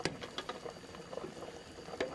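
Blended chili poured into a pot of simmering beef birria broth, giving a close bubbling, pattering liquid sound with small splashes and a couple of louder plops, no talking.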